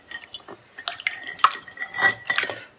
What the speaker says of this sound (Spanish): Primero vamos a lavarla en agua.